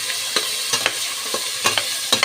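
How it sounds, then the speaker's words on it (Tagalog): Black pepper sautéed in a pan for a beef dish, with a steady sizzle broken by sharp spatula taps and scrapes at an uneven rhythm, close and alone. "igisa natin yung paminta guys"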